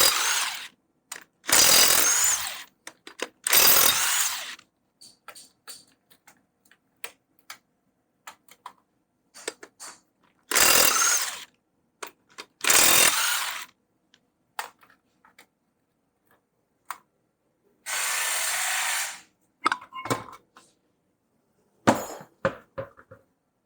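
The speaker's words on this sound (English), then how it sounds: "First you need a 19mm on your impact gun." Impact gun fitted with a 19mm socket removing a front wheel from a Renault Trafic van, loud repeated bursts of rattling hammering separated by quiet gaps and small clicks, close up with no talk.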